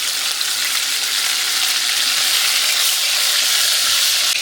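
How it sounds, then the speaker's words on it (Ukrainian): Meat sizzles and fries in melted lard, a loud, steady, dense crackle that holds unbroken throughout with no voices over it. "Смалець розтопився, ми додаємо м'ясо і смажимо його до рум'яночки."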